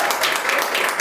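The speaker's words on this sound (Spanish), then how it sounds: "También un fuerte aplauso para María Antonia Llanes Rizo" An audience at a book presentation claps in a brief, dense burst of applause, steady and fairly close throughout.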